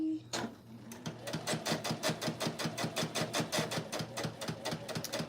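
A Juki sewing machine stitches at a slow, steady pace, giving a close, even run of rapid mechanical clicks after a short pause at the start.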